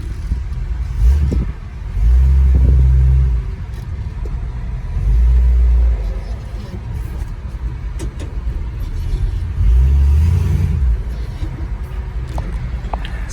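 A 1959 Chevrolet Apache pickup truck drives along with a steady, loud low engine rumble that swells in several surges of revving, heard close with no talking.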